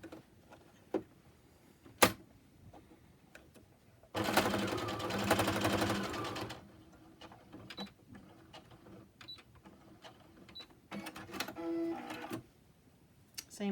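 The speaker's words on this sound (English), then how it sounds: "we're going to sew directly across there" Sewing machine stitching straight across a folded pleat on a fabric face mask: one loud, continuous burst of about two seconds, with quiet handling clicks and fabric shuffling before and after.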